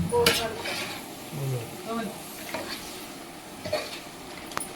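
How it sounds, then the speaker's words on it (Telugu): Chicken being stirred in a pressure cooker, with metallic scraping and clanking of a spoon against the pot over a faint sizzle, and a voice briefly heard. "అనుసరి మళ్ళీ కలుపుతుంది"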